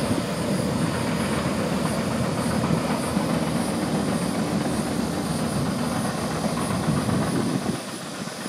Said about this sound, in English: Wow, plenty of trains here tonight.